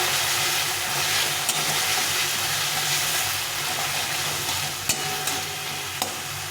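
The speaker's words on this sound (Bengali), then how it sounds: "এখন আমি এর মধ্যে দিয়ে দেবো কিছুটা রসুনের পেস্ট এটা একটু কষিয়ে নেবো" Garlic paste sautéing in oil with spices for an egg curry makes a constant close sizzle and hiss, broken by a few soft stirring clicks, with no one talking.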